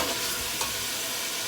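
Chicken pieces fry in hot oil for a Lahori-style chicken yakhni pulao, giving a steady, even hiss throughout. There is no speech, and one faint clink of stirring is heard partway through.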